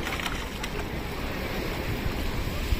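Big ocean waves at Larvotto Beach, a loud, continuous rush of surf and wind buffeting the microphone, with no talking.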